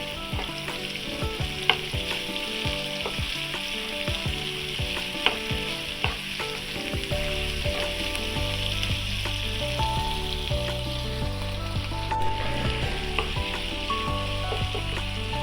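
Tomatoes frying in a pan over a raised gas flame for a fish-roe masala make a loud, steady, close sizzle for the whole stretch, with occasional clicks and scrapes from stirring.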